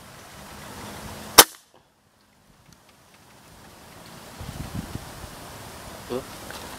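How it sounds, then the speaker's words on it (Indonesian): A single sharp air rifle shot cracks out at close range, a brief loud snap followed by near silence, then faint outdoor wind and handling noise with some low murmuring later. "tembakan kedua"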